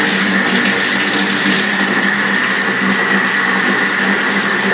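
Water runs steadily from a tap while something is rinsed out, a constant close, fairly loud rushing stream filling the whole stretch without pause and with no talking.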